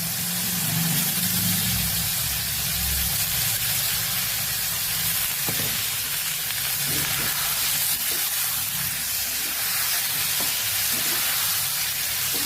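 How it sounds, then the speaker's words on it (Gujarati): Potatoes tempered in hot oil with asafoetida for a Kathiyawadi okra curry, giving a steady, loud frying sizzle and hiss that runs evenly throughout, with a few faint clicks and no talking. "5 ચમચી જેટલી હિંગ ઉમેરશું અને બટેકાનો આપણે વઘાર કરી દઈશું."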